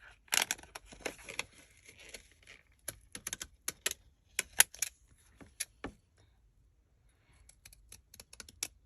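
Postage scissors snip through paper during a craft project making a stamp from wallpaper scraps, giving a string of sharp, close clicks and crisp cuts in irregular rhythm that thin out toward the end.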